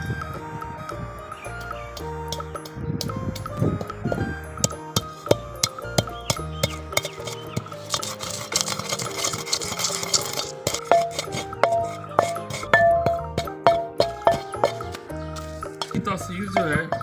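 Almonds and cardamom pods being pounded in a mortar, a run of regular sharp thuds that grows busier midway, heard under a voice talking and some ringing tonal sounds.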